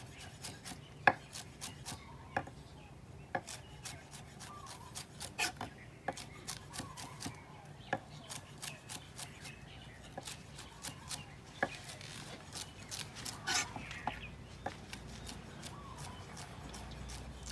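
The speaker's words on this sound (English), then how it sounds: "Go ahead and really finely slice these." Vegetables finely sliced with a knife on a cutting board for local-style potato salad, sharp knife taps in uneven bursts and quick runs, quiet and close with no talk.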